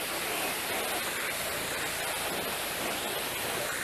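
A power washer spraying water onto greasy car parts gives a steady, loud, hissing rush of spray that runs unbroken the whole time with no talking.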